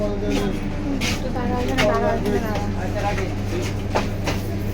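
Interior of a commuter train bound for Bongaon: a steady low rumble and hum of the carriage with faint rhythmic rattling, mostly covered by nearby people talking throughout.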